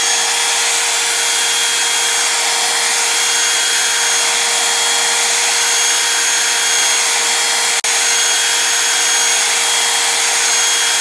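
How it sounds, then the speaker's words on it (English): A blow dryer runs loudly and continuously with a steady whirring hum, broken once by a brief click. "Now we're going to hit this with the blow dryer."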